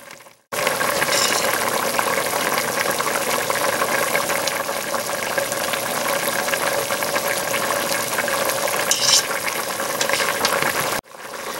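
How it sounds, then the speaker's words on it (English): Chinese brothy noodles with bok choy stirred in boiling broth, heard as a continuous bubbling, clattering texture with occasional scraping, steady and close throughout. "the noodles have softened up, as you can see, and I'm just stirring them and breaking them up now."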